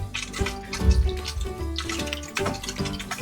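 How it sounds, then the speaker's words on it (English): Water circulating through a Top Fin PF10 aquarium filter and pipe, a close, continuous bubbling and trickling with uneven gurgling surges. "trying to circulate the water through the filter and through"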